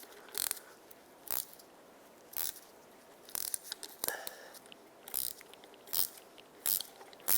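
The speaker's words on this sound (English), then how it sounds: "I'm going to slide a 15mm wrench on here, clamp some locking pliers on, and I'm just going to go ahead and remove the nut this way" Rhythmic metallic ratcheting clicks from a 15mm wrench turning a rear shock absorber nut on a 2007-2010 Chrysler Sebring, short bursts repeating every second or so, close and fairly quiet.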